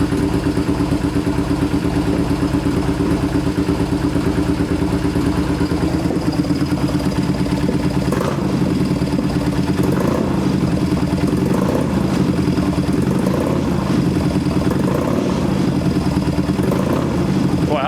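A Yamaha XS650 motorcycle engine with a stainless exhaust runs loud and close, a dense, continuous chugging that turns rougher and sputters unevenly toward the end as it runs out of fuel.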